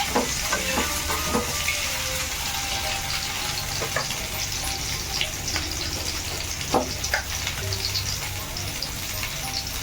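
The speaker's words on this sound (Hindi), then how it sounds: "एबे टिके अंडाटा उठे भले तेल रे भाजी देबा हमें।" Eggs frying in hot oil in a clay pot for a village-style egg curry, a steady close sizzle and crackle running throughout with occasional spatters and stirring scrapes.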